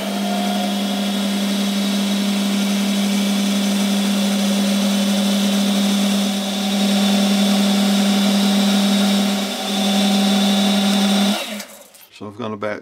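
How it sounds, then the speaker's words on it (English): A lathe whines at a steady pitch for several seconds with a faint hum beneath while drilling a 3 mm hole, then stops abruptly and leaves a few scraping clicks. "the next job is to drill a 3 millimeter hole through."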